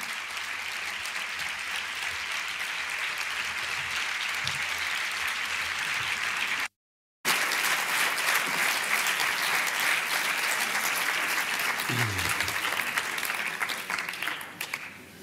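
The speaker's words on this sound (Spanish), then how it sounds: "le damos un aplauso, por, favor" An audience applauds after a talk on press freedom, with dense, even clapping that carries on steadily for about fifteen seconds, briefly cut by a short gap, then resumes.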